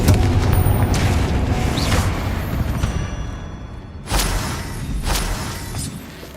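Confringo spell explosions in the Hogwarts Legacy video game, a loud booming blast that fades, then a second sharp explosion and a smaller follow-up boom.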